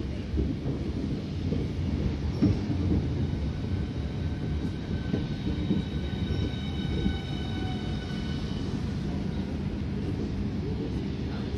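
Train pulling into a station, a low rumbling roll with faint high squeals from wheels or brakes, steady and moderately loud throughout.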